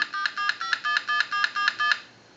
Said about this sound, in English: and it dialed out a time and temp number.